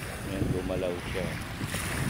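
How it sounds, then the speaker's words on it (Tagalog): Choppy waves wash and slap in Manila Bay under steady wind rumble, a constant broadband rush with no distinct breaks, with faint voices in the background. "Maalon. Umaalon."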